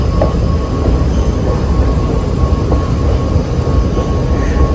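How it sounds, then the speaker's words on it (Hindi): A metro train rolls past close by, a loud continuous rumble of wheels on rails with a steady electric whine and faint squeals, unbroken throughout with no voices. "मेट्रो ट्रेन की तरफ जाते हुए"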